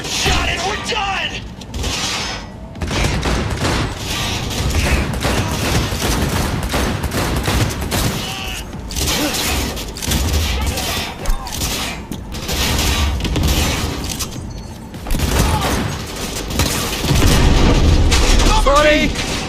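Gunfire in the video game Cyberpunk 2077: dense, loud bursts of rapid weapon fire and booming impacts that run almost unbroken, with short lulls, under a busy mix of game effects and music.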